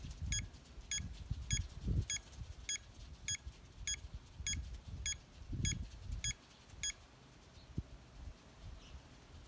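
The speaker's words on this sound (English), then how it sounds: "EMF detector was just going off" An EMF detector in a creepy abandoned motel gives a steady series of short, evenly spaced electronic beeps over low rumbling background noise and handling sounds, with no talking.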